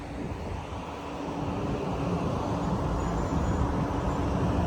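A truck engine held at high revs right beside a parked truck, a dense continuous roar with broad rumbling noise that swells slightly and stays loud and close throughout, with no talk.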